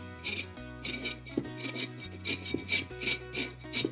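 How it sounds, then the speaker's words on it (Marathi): A peeled medium-sized potato is grated by hand, giving rhythmic rasping strokes in quick bursts, close and fairly crisp. "बटाट्याचं साल काढून झालं की बटाटा किसून घ्यायचा"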